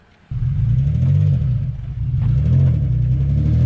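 An Infiniti G35 drift car with a hurt motor fires up after a brief silence, then settles into a loud, close, rumbling idle with revving swells.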